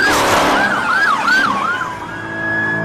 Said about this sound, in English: But it's just an ambulance